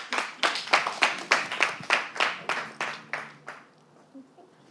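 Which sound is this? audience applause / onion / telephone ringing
audience applause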